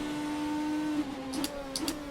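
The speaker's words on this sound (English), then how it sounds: "Not like she'll be able to hit anything over this screaming BMW" BMW race car in the rFactor 2 racing game at Sebring, its engine holding a steady high-pitched whine that dips and surges with short sharp bursts near the end, loud and alone without talk.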